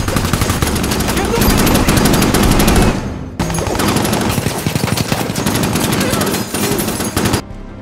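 Sustained machine gun fire in a police action film scene, a loud rapid rattle of shots that breaks off briefly and resumes before stopping abruptly.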